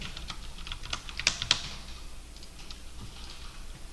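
Light clicking keystrokes on a computer keyboard as code is edited, a quick irregular patter with two sharper taps, fairly close and quiet with no talking.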